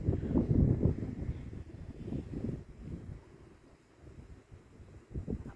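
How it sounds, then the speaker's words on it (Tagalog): Wind buffeting a microphone outdoors on a cold, windy day near a large church in Montreal, with low rumbling gusts that are strongest at the start and then fade to softer, uneven puffs. "Malamig guys, mahangin."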